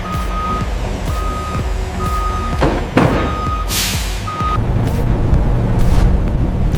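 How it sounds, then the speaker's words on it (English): Delivery trucks hauling Coca-Cola bottles, with a steady reversing beeper sounding in repeated bursts over a low diesel engine rumble, a sharp air-brake hiss in the middle, and loud continuous traffic noise. "Trucks carry them across cities and countries"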